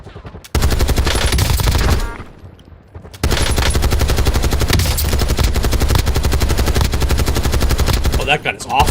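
Sustained automatic assault rifle fire in the Warzone video game. Loud rapid bursts rattle on for about 1.5 seconds, pause briefly, then a longer continuous stream follows.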